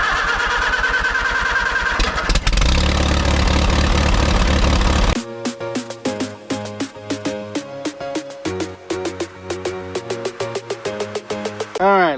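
A 2005 Chevy Trailblazer engine cranks for a few seconds, catches and settles into a rough, uneven idle with repeated pulses, close and fairly loud, with no voices.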